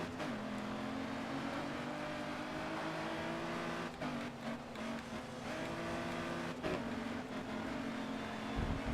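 A race car engine roars in Grid Autosport during a street race, a sustained loud drone whose pitch holds and then dips briefly around gear shifts, near and continuous with no talking.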